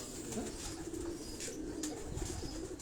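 Breeder pigeons on a rooftop loft, soft low cooing repeating over a quiet hum of background noise, faint and at some distance.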